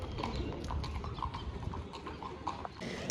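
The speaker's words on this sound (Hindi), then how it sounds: "राजा जी के घोड़े देखो।" Horses' hooves clip-clop steadily on hard ground at the Udaipur City Palace in India, a brisk run of distinct knocks at moderate distance, heard faintly among outdoor crowd ambience.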